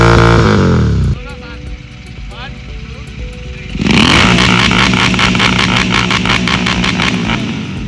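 A Royal Enfield GT 650 motorcycle with an aftermarket exhaust starts up, first a short crank and uneven idle, then a loud, close, rumbling twin-cylinder roar that jumps in volume and holds steady with blips.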